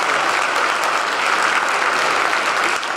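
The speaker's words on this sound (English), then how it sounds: "How about a nice round of applause" Steady, dense audience applause fills a church hall, loud and continuous throughout with no pauses, dipping slightly only at the very end.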